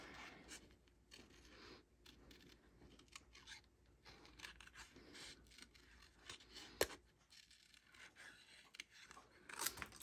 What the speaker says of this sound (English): Our little paper snips are perfect for fussy cutting because they're small and they're sharp.